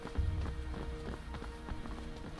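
Horse hooves clip-clop in a video game, a quick run of repeated thuds at a steady gallop-like rhythm, fairly close and loud, with no talking over them.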